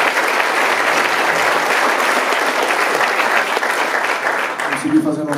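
A concert audience at an instrumental music show applauds a musician, steady loud clapping from a sizable crowd that thins slightly at the end as a voice begins.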